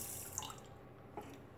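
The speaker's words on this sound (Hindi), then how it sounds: "अभी पानी डाल लेंगे, इसमें मैंने एक कप चीनी ली है तो ये मैं दो कप पानी डालूंगी" Water poured from a container into a pan holding a cup of sugar while making syrup, a short steady splashing trickle, close and fairly quiet, with no talking.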